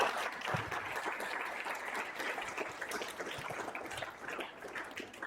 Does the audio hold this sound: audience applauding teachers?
yes